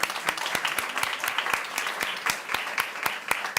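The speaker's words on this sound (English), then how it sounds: "Give her a round of applause." Audience at a conference panel on Brazil and the road to COP30 gives a speaker a round of applause, with dense clapping and distinct close hand claps repeating at a quick, fairly regular pace.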